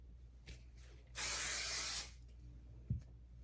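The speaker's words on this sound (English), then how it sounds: "I like to spray a little aerogel up into the interior to help it hold, because I love hairspray so much." Aerogel hairspray from an aerosol can sprays into curly hair in one steady burst of about a second, loud and close, followed by a small handling knock.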